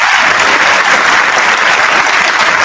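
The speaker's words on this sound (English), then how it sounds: "Give me the hand claps. I need a hand clap for Magic City." A live show audience claps for the Magic City act, steady dense applause filling the room without pause, loud and close.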